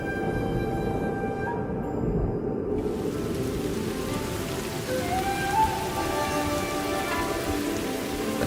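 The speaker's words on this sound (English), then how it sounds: "But this is no spring shower. It's a gully washer." Heavy downpour in an arid prehistoric Mongolian landscape, a dense continuous hiss of rain striking the ground, loud and steady throughout with faint rumbles beneath.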